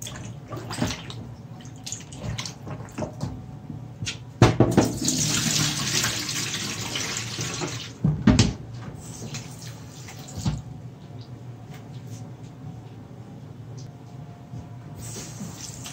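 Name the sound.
water running from a tap while washing meat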